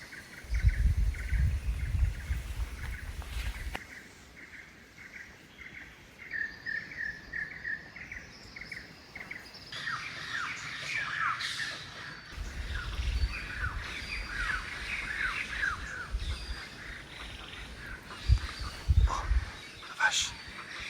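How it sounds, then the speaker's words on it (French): Thai jungle ambience with dense insect and cricket chirring, scattered bird calls and louder bursts of activity partway through, steady and moderately quiet throughout, no talk. "Je vous laisse en immersion dans la jungle avec nous et les bruits ambiants."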